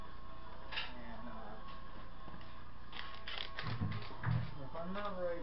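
A wrench working a bolt on a 1981 Honda ATC 200 engine during removal, giving faint creaks and mechanical ratcheting clicks close by, with someone speaking quietly at times.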